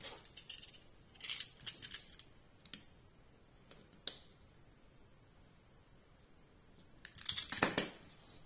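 Scissors snipping small paper scraps for a handmade scrapbook card: a few quick clusters of crisp cuts, a brief pair early, a couple of isolated clicks, and a louder burst near the end, with quiet between and no talking.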